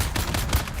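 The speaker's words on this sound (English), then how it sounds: "Stop shooting me, asshole." Gunfire in Dune Awakening: a brief, dense burst of rapid shots, close and fairly loud, with no voices.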